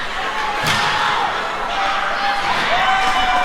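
Crowd at a high school district hockey game against Alexandria cheering in a continuous roar, with a puck or board slam, scattered thuds and a commentator talking over it.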